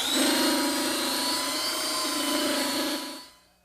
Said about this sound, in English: I like to use a slightly smaller belt sander to do these edges